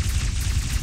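A dense, continuous burst of gunfire erupts during a chaotic RimWorld 40k battle against the Tau Empire, loud and noisy throughout the short moment with no pause between shots.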